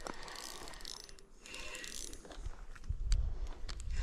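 A carp fishing reel's drag clicks in rapid ratcheting bursts as a hooked carp pulls line at a pond, close and fairly loud, with outdoor rustle and a low thump near the end.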